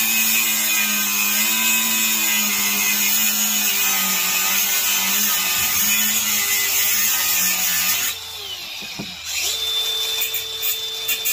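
Angle grinder cutting through seized nuts on the underside of a scrap furnace, a loud steady high-pitched whine that holds for about eight seconds, then dips and shifts pitch as the cut changes.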